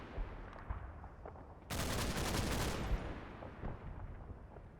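Small arms fire in Combat Mission: Battle for Normandy, a rapid burst of gunfire lasting about a second over a background of scattered distant shots, with no talking.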